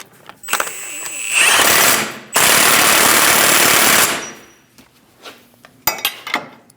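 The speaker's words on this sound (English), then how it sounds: "Install the axle nut, snug it down." An impact wrench snugs down the axle nut on a Chevrolet Silverado 2500 HD during an upper ball joint replacement, firing two loud rattling bursts about a second or two long, followed by quieter tool clinks and shuffling.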